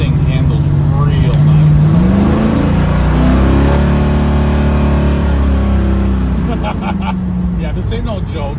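A 1981 Chevrolet Camaro's engine rumbles loudly and rises in pitch as it pulls at quarter throttle from inside the car, with someone talking over the steady drone.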